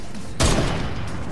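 Gunfire in the Fortnite video game, a sudden burst of shots that breaks in after a quiet moment and carries on loud for about a second.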